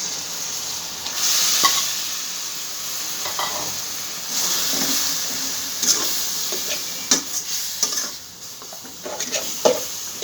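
Oil sizzles and hisses in a pan where something fries with salt before greens go in, with periodic spoon scrapes and light clinks over the constant frying noise.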